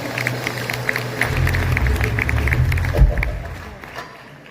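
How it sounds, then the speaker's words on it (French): Applause from an audience at the closing ceremony of a Moroccan Jewish week in Créteil, France: steady, dense clapping that swells and holds for several seconds, then tapers off, with a musical tone running underneath. "On peut les applaudir tous les trois"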